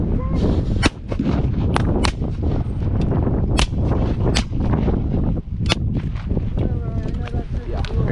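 Civil War reenactors fire muskets by files, producing a rapid ragged series of sharp, loud reports spread across several seconds, with a deep booming background and shouted voices among the shots.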